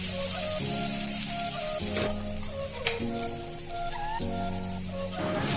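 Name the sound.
onion and garlic frying in a wok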